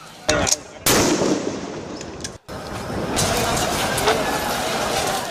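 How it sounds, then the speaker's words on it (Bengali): Sharp police gunshots crack out over a loud crowd roar, a couple of bursts early then scattered shots amid continuous chaotic noise. "পুলিশের 4টি বিশেষ ইউনিটের কেউ একাধারে গুলি করছে"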